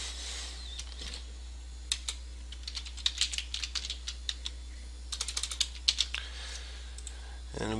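Typing on a computer keyboard, scattered light key clicks in short irregular bursts over a low steady hum, with faint speech in the background.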